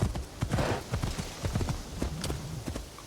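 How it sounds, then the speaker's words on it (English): A horse in Assassin's Creed Shadows walks with close, steady clip-clopping hooves in an even rhythm over soft background ambience. "The white horsey."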